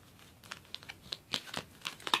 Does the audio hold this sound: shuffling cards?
yes